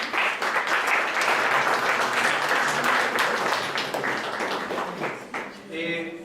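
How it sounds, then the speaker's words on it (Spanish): Audience applause for a speaker at a Spanish-language academic lecture, a dense, steady wash of many hands clapping that fades toward the end as a voice begins. "Les pido un aplauso, por favor"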